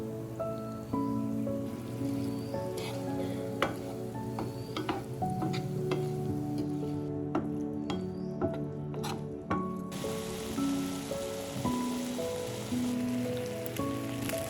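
Small pieces of salted chicken fry in a pan for chopsuey rice, a continuous close sizzle with occasional stirring clinks and spatters, no voices.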